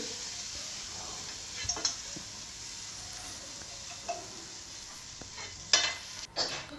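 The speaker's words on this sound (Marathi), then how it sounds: "आपण मिक्स केलेलं डाळीचं पीठ घालायचं आहे छान असं मिक्स करून घ्यायचं आहे" A spatula stirs gram flour batter into a sizzling tempering for pithla, giving a few scattered scrapes and knocks against the pan over a faint continuous sizzle.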